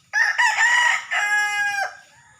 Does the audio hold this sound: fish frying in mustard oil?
no